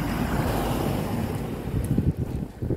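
Fresh wind on a hot, muggy day blows across the microphone beside a roadside on Ua Pou island, a steady low rumbling buffet with stronger gusts toward the end.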